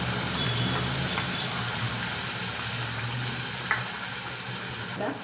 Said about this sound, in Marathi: हा मसाला घेतला वाटून कच्चा मसाला तो आपण त्याच्यावर टाकूया